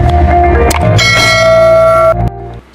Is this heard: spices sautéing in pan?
no